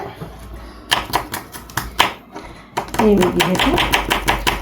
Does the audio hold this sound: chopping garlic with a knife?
yes